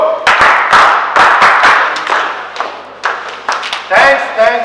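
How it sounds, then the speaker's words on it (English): A group at a cricket league press conference claps in a rhythmic thank-you pattern, sharp claps in short bursts of three, close and loud, mixed with shouted voices. "For sir, we'll give a thanks clap 3 times."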